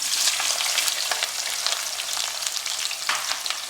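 Onions frying in a pan for chicken biryani give off a steady, close crackling sizzle with occasional stirring scrapes and no voices.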